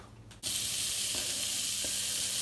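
Oscypek smoked sheep's cheese lands on a hot grill and sizzles loudly at once, a bright steady frying hiss that follows a brief quieter moment.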